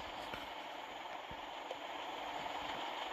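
A train rolls past a station in the video game Truck Simulator Ultimate, a steady broadband rumble and hiss holding evenly through the whole stretch, with a few faint clanks.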